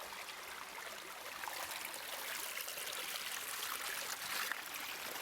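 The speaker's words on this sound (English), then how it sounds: "and also a little small waterfall" A small waterfall flows outdoors in a natural setting, giving a soft, steady rush of water that holds an even level throughout with no voices.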